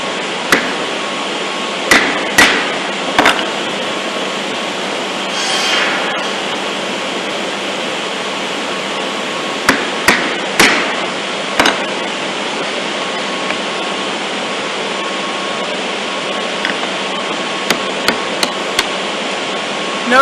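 A wooden mallet strikes a chisel while dovetail pins are cut in wood, sharp distinct knocks arriving singly and in small clusters across a steady background hiss, close and fairly loud.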